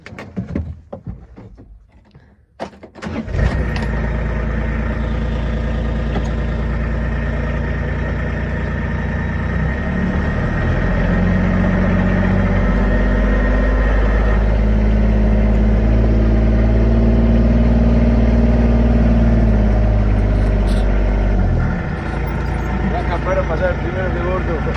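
A car's engine starts, then idles and runs with a steady low drone for about twenty seconds before pulling away, loud and close, with people talking briefly near the start.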